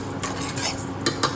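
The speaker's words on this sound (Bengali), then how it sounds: "আর এখানে চালটা ভাজছি আমি" Rice frying in a pan while a utensil stirs it, with close scraping and clinking strokes in an uneven rhythm and faint sizzle underneath.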